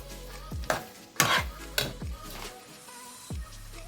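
A spoon stirring roux in a pot as it cooks for seafood gumbo, several scraping strokes and clinks against the pot over a low sizzle, close and fairly loud, with no talking.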